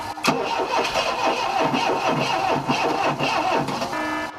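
Ford Escort Mk3 starter motor cranking the engine, a steady loud churning drone with rhythmic pulses running throughout, close up with no voices.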